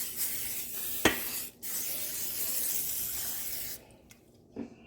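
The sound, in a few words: cooking spray being sprayed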